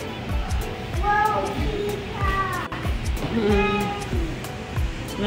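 Cats at a cat cafe meow several times in drawn-out, rising calls, close and clear, while people chat softly in the background.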